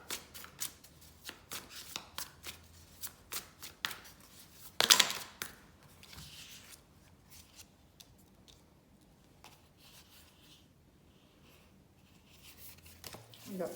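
Tarot cards are shuffled and handled in a series of soft riffling flicks and taps, close and fairly quiet, with a louder burst midway and quiet stretches between.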